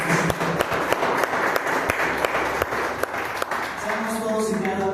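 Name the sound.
congregation applauding in church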